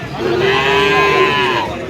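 Sahiwal cattle at a busy cattle market give a loud, close moo lasting almost two seconds, with faint crowd chatter in the background.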